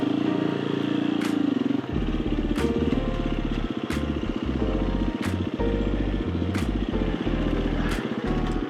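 A Husqvarna FE 350 enduro motorcycle engine runs steadily and loudly near the listener, its low throb punctuated by regular sharp mechanical clicks, with no voices.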